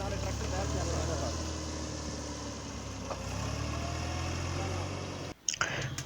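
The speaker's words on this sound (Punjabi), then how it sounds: "ਨਾਲੇ ਟਰੈਕਟਰ ਬਾਹਰ ਚੱਲ ਰਿਹਾ" A tractor engine runs steadily outside at a sawmill, a low continuous rumble that stays at an even level under faint background voices, with a brief clatter near the end.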